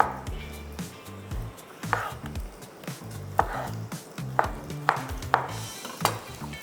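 A knife cuts juicy tomatoes into chunks on a board in a kitchen, a run of irregular close knocks and soft squelchy slices repeating every half second or so, with light background noise.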